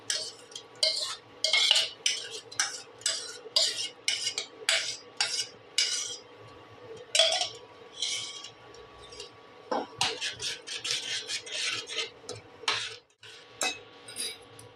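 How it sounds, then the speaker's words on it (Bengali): Tomato paste cooking in a metal wok on the stove, a spoon scraping and clinking against the pan in rapid repeated strokes over a low hum, fairly close and continuous. "এবারে আমি কড়াই বসিয়েছি, কড়াইয়ের মধ্যেই টমেটোটাকে দিয়ে দিচ্ছি"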